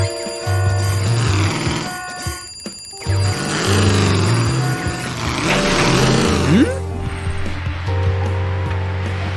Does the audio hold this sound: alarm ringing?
yes